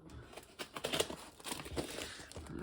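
A cardboard box holding a joblot of OO gauge model railway rolling stock is cut open; close, irregular crinkling and tearing scrapes come in uneven bursts with no speech.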